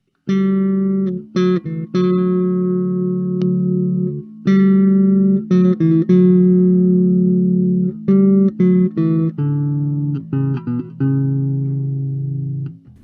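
A Marcus Miller V3 electric bass plays a sequence of sustained, deep plucked notes and short phrases, switched from passive to active mode, loud and close, with no talk.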